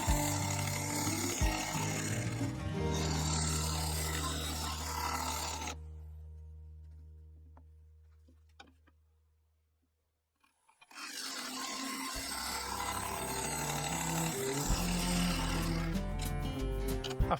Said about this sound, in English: After a final go with a carbide finisher, the inside was done.